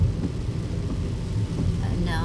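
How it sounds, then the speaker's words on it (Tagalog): Heavy rain pounds steadily around a vehicle climbing a foggy mountain road toward Tacloban, a dense, constant roar with a low engine and road rumble underneath. "sobrang foggy ng daan at sobrang lakas ng ulan"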